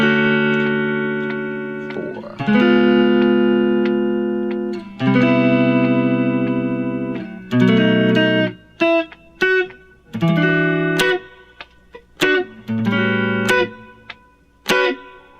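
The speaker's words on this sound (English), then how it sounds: "Now I'm using a thin pick so that I get this really light strumming sound" Guitar strummed lightly with a thin pick plays the chord part of Boz Scaggs' "Lowdown", sustained chords early, then short choppy stabs with gaps between them, close and clear with no voices.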